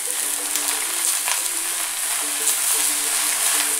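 Aubergines with salt sizzle steadily in a hot pan, a loud, continuous close frying hiss broken by occasional faint clicks and stirring noises, with no voices.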